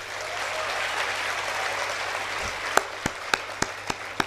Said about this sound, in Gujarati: તાળીઓ પાડવામાં તો સાલા ગુજરાતીઓ નંબર 1